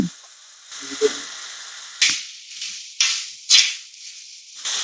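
Cut potatoes, eggplant and beans fry in a pan for navaratna curry, giving a steady hissing sizzle that swells in repeated surges as pieces are added or stirred, close and fairly loud.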